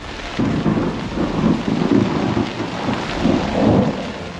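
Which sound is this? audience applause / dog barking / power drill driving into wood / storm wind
storm wind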